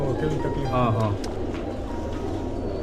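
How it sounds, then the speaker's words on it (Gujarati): Pigeons coo in low, soft, rolling calls close by, with steady background noise and a voice talking over them. "આ કબૂતરને તમે જોઈ શકો છો દોસ્તો"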